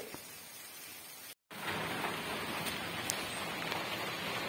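Rain falls steadily on a village in Bangladesh, a soft even hiss with scattered drop patters, broken by a brief cut of silence.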